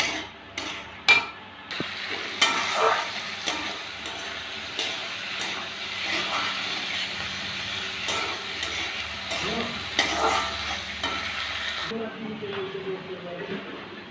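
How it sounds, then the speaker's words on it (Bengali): Potatoes frying with ground spices in a pan, stirred briskly so the utensil scrapes and knocks against the pan over a continuous close sizzle, with a few sharper clicks at the start before the frying quiets near the end. "আলু দিয়ে মশলাটা দিয়ে একটুখানি কষিয়ে নেবো তারপরে ভেজে দেবো"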